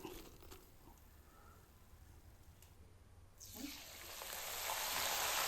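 Boondi and curry leaves frying in hot oil, a low steady bubbling that swells into a loud broadband sizzle near the end as the leaves hit the oil, close and continuous with no talking.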